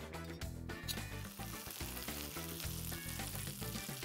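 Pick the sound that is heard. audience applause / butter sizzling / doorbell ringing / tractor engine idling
butter sizzling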